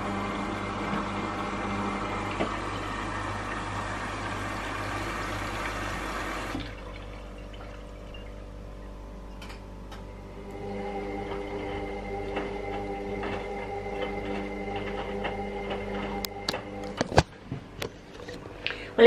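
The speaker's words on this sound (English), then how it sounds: "I'm now going to plug in my new washing machine and do a full wash." A new washing machine runs a full wash with a steady mechanical hum and sloshing water. The tone drops partway through, then shifts to fainter whirring with scattered clicks and knocks.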